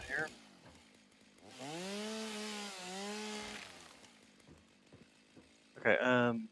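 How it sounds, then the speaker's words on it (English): Chainsaw from the video game Satisfactory revs up loud and steady for about two seconds with a rising then falling engine whine, framed by brief talk at the start and end. "chainsaw here."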